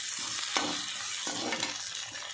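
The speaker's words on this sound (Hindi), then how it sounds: "हम इस तरीके से चलाते रहेंगे" Poha with peas and chopped carrot fries in a pan while being stirred, a close, steady sizzle broken by repeated scraping strokes of the spoon.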